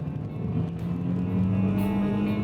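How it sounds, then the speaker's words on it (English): Renault Twingo GT with a turbo engine accelerating hard from a standstill, a steady, loud engine drone climbing slightly in pitch as it pulls, close to the car, with no talking. "We'll give it a little run and see where we get to. A bit too much wheel spin, I'm afraid."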